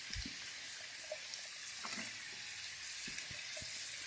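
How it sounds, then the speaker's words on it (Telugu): Onions frying in a pan for chilli chicken, a soft steady sizzle with scattered light scraping and stirring clicks, fairly quiet and with no talking. "కొంచెం ఫ్రై అయిన తర్వాత ఆనియన్స్ కూడా యాడ్ చేసుకుందాం"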